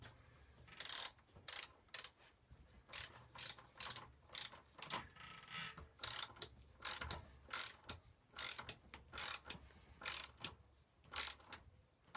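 A torque wrench ratchets while tightening the bolts of a Cannondale bicycle spider ring, set to 40 newton metres, giving repeated crisp clicking bursts in a steady back-and-forth rhythm, close and clear.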